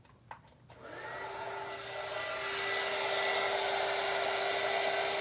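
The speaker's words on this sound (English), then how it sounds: "So now I'm going to take the heat gun." A heat gun blows on epoxy resin for an ashtray, starting after a couple of clicks and swelling into a steady, airy whooshing roar with a faint whine, no voices.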